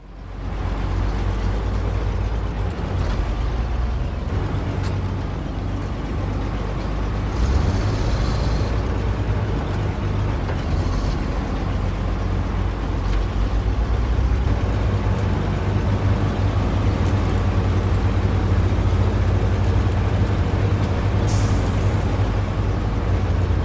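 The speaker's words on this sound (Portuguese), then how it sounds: "O caminhão tá sofrendo um pouquinho com essa carga, tá muito pesado" Heavy truck engine in SnowRunner on hard mode, labouring under a heavy load of long logs: a steady low drone runs close and continuous throughout, with hissing bursts overhead and no talk.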